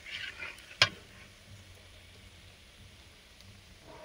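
Panch phoron spices, whole dried red chillies and turmeric fry in mustard oil for a mango pickle, a soft, steady sizzle with a sharp clink of a stirring spoon early on and quiet scraping afterward.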